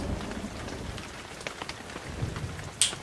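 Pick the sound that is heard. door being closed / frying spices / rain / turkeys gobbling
rain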